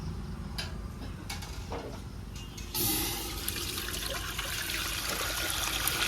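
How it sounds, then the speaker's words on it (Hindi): Water pours into a cooking pot for boiling spinach in a village kitchen, a steady rushing splash that starts abruptly after a few faint ticks and knocks and carries on to the end. "सबसे पहले ऐड करेंगे भगोने में पानी।"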